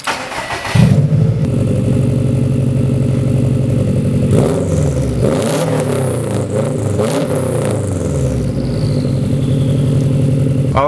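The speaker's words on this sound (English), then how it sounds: "So I'll give you guys a few exhaust clips" A car engine fitted with a new throttle body fires up and revs close by, with a steady exhaust rumble broken by several rising and falling throttle blips, loud throughout.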